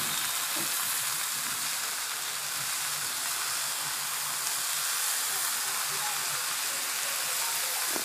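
Fenugreek and potato curry fries in a pan, a steady, even sizzle and crackle close by with faint stirring underneath, no voices.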